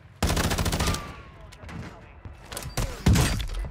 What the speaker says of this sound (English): I'm being sniped in the back